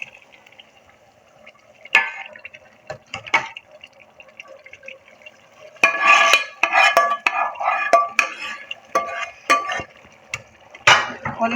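Spoon stirring a hot tempering into black chickpeas in a metal pot, giving scattered scraping clinks and wet sloshing that grow busier and louder in the second half.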